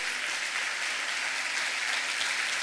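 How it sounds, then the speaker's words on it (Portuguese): A church congregation claps together during a Sunday service, producing dense, steady applause that holds at an even level from start to finish with no voices over it. "Receba, aplauda ao Senhor Jesus."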